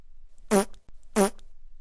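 A cartoonish fart sound effect for a dog, heard as two loud, blubbery bursts about half a second apart, each cutting off abruptly into near silence.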